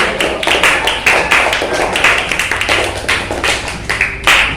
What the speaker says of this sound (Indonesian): tepuk tangan untuk semua kelompok ya, tepuk tangan